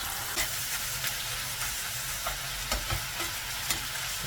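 Ground beef with 25% fat browns in a pan, sizzling and hissing steadily, with occasional soft scrapes and taps from stirring.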